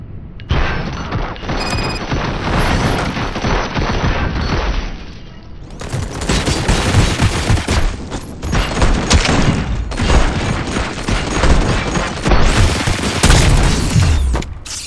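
Sustained gunfire and explosive impacts from the video game RoboCop: Rogue City, loud and dense throughout with bursts and heavy booms, briefly dipping near the middle before resuming.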